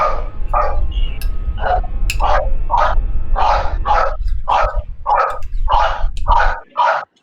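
A dog barks repeatedly in a steady rhythm, loud and close, about a dozen sharp barks over low rumbling background noise.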